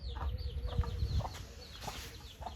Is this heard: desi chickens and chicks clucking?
yes